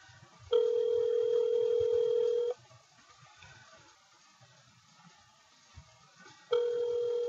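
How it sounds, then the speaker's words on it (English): A telephone ring tone sounds over a quiet line, one long steady electronic tone lasting about two seconds, a long silent gap, then the tone starting again, with the call going unanswered. "We're trying to call up our good friend Simon Hakimian. But he is not answering."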